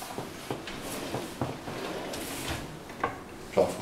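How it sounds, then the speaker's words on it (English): Kitchen drawer being opened and closed, a series of soft wooden knocks and slides spaced irregularly over quiet room tone, with no talk. "Check that drawer on the end."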